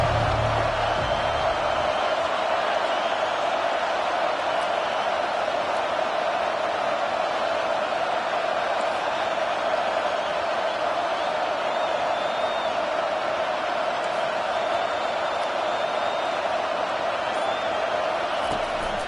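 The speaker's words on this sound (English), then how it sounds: "Decibels rising as the crowd gets behind this defense on third down." A Michigan football stadium crowd roaring on a defensive third down, a dense, sustained roar that stays loud and unbroken throughout, with faint whistles or whoops on top and a commentator's voice beneath.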